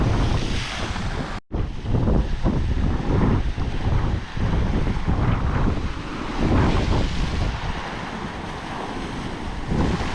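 Large waves crash heavily along a flooded baywalk in Tanauan, Batangas, with strong wind buffeting the microphone; loud continuous surf roar with repeated surges and a brief dropout near the start, no voices.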